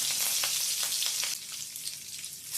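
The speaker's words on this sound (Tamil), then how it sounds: "கடாய் வச்சுக்கோங்க. கொஞ்சமாக எண்ணெய் சேர்த்துக்கணும். கொஞ்சமாக சோம்பு தாளிச்சுக்கணும். கருவேப்பிலை சேர்த்துக்கணும்." Fennel seeds and curry leaves crackle and spit in a little hot oil in a kadai, a loud close sizzle with small popping bursts that eases slightly toward the end.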